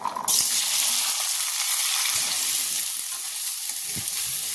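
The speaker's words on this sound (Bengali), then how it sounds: "এবার এর মধ্যে কেটে রাখা আলুটা দিয়ে দিচ্ছি" Cut potatoes drop into hot oil in a wok and erupt into a loud, steady sizzle that continues close up, with a couple of faint stirring knocks.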